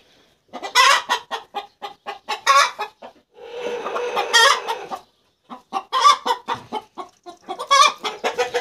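Brooding hens cluck loudly and close by in repeated rhythmic bursts, broken midway by a longer harsh, drawn-out call, with short silent gaps between bouts.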